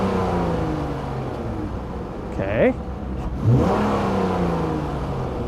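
A 2015 Dodge Challenger SXT Plus V6 engine revs twice in quick bursts over a steady idle, with a person speaking briefly nearby.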